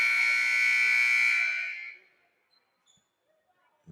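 A long, loud electronic buzzer at a high school boys basketball playoff game blares steadily for about two seconds, then cuts off into near silence.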